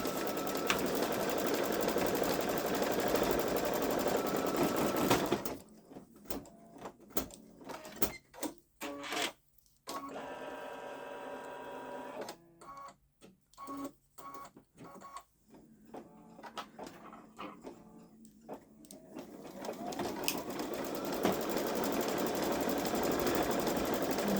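A Baby Lock Solaris embroidery machine stitching, with a steady mechanical whir and rapid needle clatter that runs continuously near the start and end, broken by a quieter stretch of intermittent clicks and short mechanical sounds in the middle.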